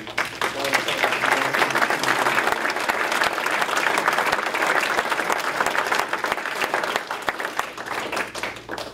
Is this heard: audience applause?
yes